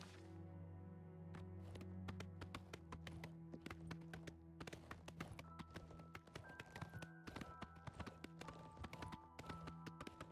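Steady clip-clop of hooves trotting at an even rhythm, close and fairly loud, layered over a continuous musical backdrop with no talking.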